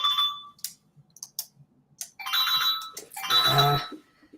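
A mobile phone rings indoors during a conversation, giving bursts of bright electronic ringtone tones separated by short gaps and clicks, with the last burst loudest.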